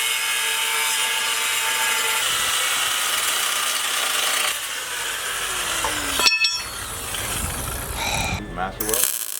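Metal being cut for custom motor mounts, loud harsh grinding and rasping that shifts in pitch, ending in a few scraping bursts close by.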